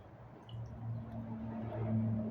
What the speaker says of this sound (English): Water just poured right out.